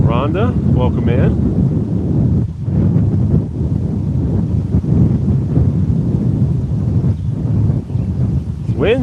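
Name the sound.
strong wind blowing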